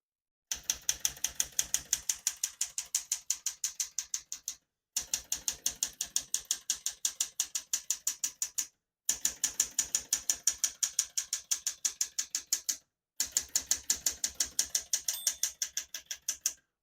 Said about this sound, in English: I was able to type all the keys on the keyboard in one line